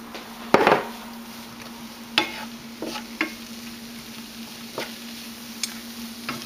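Tofu frying with garlic and mushrooms in a pan, a faint steady sizzle broken by several sharp stirring clacks of a utensil against the pan.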